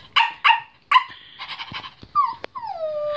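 A person imitates a small dog with a few sharp yips followed by high whimpering whines, close and fairly loud.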